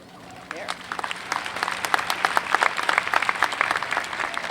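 An audience at the 2012 CSUN freshman convocation in Northridge applauds and cheers for a new president, a loud, dense wash of clapping and voices that runs unbroken throughout.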